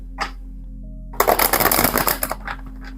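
A deck of witches' tarot cards is shuffled up close, giving a quick burst of crisp riffling and flicking that lasts about a second and then trails off into a few lighter taps.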